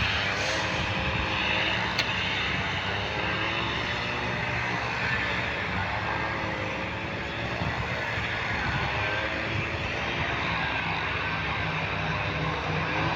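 Steady, loud aircraft engine drone fills the whole stretch, with a helicopter doing touch-and-go landings and airplanes flying overhead near an airfield, heard continuously without talk.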